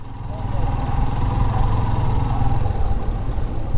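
A motorcycle engine idles nearby with a steady low rumble that holds evenly throughout, no voices heard.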